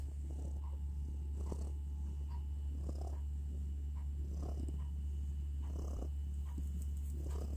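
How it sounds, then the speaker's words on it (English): A cat with a red and black face purrs steadily, close and soft, over a loud constant low hum in an indoor room, with no speech. "She's purring me a song again."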